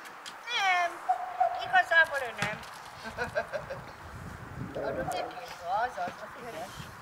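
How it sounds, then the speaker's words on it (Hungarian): Several cats meow repeatedly, near and fairly loud, with one drawn-out plaintive cry followed by shorter calls, mixed with a person talking and some clattering. "Jönnek a macskák!"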